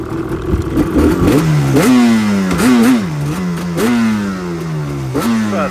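A stock Yamaha Banshee 350 twin quad revs hard in repeated rising and falling bursts, loud and close, with no talking.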